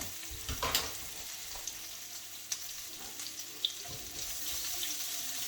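Potatoes fry in plenty of bacon grease in a pan with meat, giving a steady hissing sizzle close by. A few scrapes and clinks sound as they are moved around, and no one speaks.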